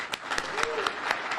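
An audience claps for five women honored at a celebration of women in the trades, with dense, steady applause and a few sharper claps standing out. Faint voices run underneath.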